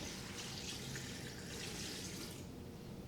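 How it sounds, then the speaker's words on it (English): Four cups of water pour into a Cosori 8-quart pressure cooker over shrimp shells, a soft, continuous splashing stream heard faintly for a few seconds. "4 cups of water"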